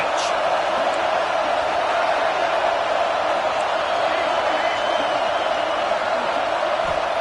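Steady, loud roar of a college football stadium crowd at a UNC game during a third-down play in the red zone, a dense wall of cheering that holds unbroken throughout.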